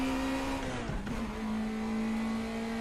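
An NSU car in the RaceRoom racing game, its small engine holding a steady high drone that dips briefly and climbs back, heard from the cockpit with no talking.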